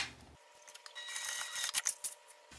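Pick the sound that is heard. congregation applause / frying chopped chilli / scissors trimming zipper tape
scissors trimming zipper tape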